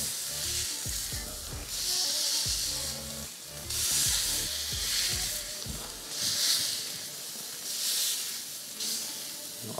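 Smash burger patty pressed flat with a spatula on a hot griddle, a steady loud sizzle that swells in repeated surges as the meat is pushed down, with scraping and tapping from the spatula.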